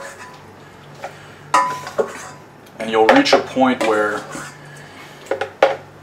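Cooked food, including duck, is scooped from a pan into a blender, with clinking and scraping of utensils against cookware in short bursts, while someone talks over part of it.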